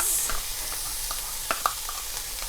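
Steady hissing sizzle of onion, ginger and garlic frying in hot oil, close up, with occasional small pops and crackles and no talking.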